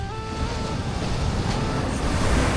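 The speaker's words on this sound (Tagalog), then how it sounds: "Lakas din ang alon." Strong waves breaking on a beach in Ilocos Norte, a steady broadband wash of surf with gusty wind noise, fairly close and continuous throughout, with no talking.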